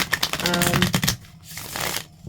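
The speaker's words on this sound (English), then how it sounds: "I'm just going to take a moment while I shuffle the cards" Gendron Tarot cards being shuffled by hand, a quick run of crisp riffling flutters that fades into softer rustling, close and fairly loud with no talk.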